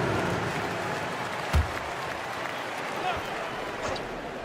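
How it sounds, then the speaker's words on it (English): Steady crowd applause and cheering in a basketball video game, Portland Trail Blazers home arena broadcast, sustained at moderate level under a commentator's voice, with one brief thump midway. "Give a big round of applause to your Blazer dancers."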